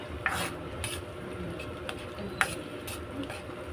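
Corned beef spaghetti sauce ingredients are stirred in a pan, with a few light spoon taps and clinks on the cookware over a low background sizzle.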